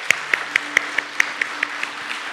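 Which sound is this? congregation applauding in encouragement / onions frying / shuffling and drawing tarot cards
congregation applauding in encouragement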